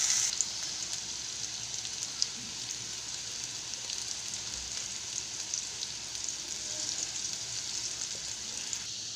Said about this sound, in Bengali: ফোড়নে দেব তেজপাতা, শুকনো লঙ্কা আর জিরে। কচুগুলো দিয়ে দিয়েছি।